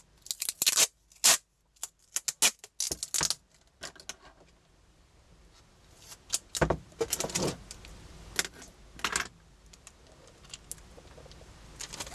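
Adhesive tape is pulled off a roll and torn in a series of sharp, ripping bursts at an art table while bookmarks are made. The bursts are close and irregular, with quieter rustling between them.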